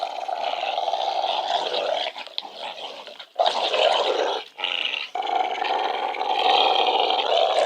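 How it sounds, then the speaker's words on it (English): A brindle dog growls in rough, sustained rumbles during play, loud and close, broken by brief pauses and snarling bursts, with no speech over it. "You have to growl like that, don't you?"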